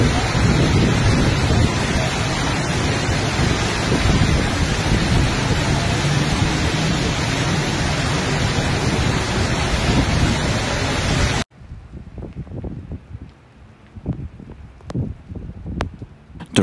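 Dense, roaring downpour with rumbling thunder for several seconds during a severe Texas thunderstorm, then a sudden drop to quieter rain with scattered distant thunder rolls.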